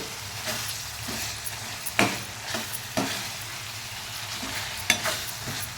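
Eggs frying in hot oil with turmeric and chilli in a pan, a soft continuous sizzle broken by several sharp spatula scrapes and clicks at irregular intervals, close by with no talking.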